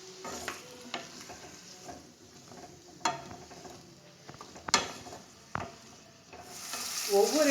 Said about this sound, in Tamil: கத்திரிக்காய் நல்லா வதக்கின்னு இருக்கு